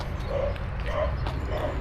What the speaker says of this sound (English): we hear dogs